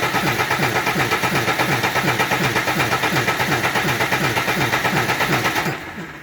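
A Cummins 6BT diesel swapped into an M35A2 military truck cranks steadily on its starter, a loud rhythmic churning pulse that repeats evenly for several seconds before cutting off near the end.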